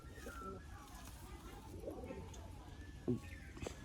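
Soft, low cooing of a Malwai pigeon in a loft during a bird sale, with a brief sharper call near the end, set against steady background hum and murmuring voices.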